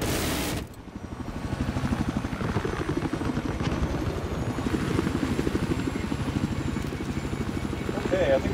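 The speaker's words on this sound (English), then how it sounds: "Oh, I feel sorry for that attack chopper." An attack helicopter in the Battlefield 4 video game chops steadily and loudly with a rapid rotor pulse, sustained throughout after an abrupt start, with gunfire and game sounds mixed in.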